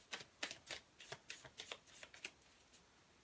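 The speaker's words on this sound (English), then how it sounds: "that feels like a really good shuffle" Tarot cards shuffled by hand in a series of crisp, rapid riffling bursts, close and clear with no talking.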